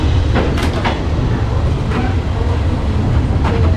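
A third-class train pulling out of Bangkok on the way to Ayutthaya, Thailand, with a loud, steady low rumble of the rail car and a few brief metallic clanks and rattles near the start.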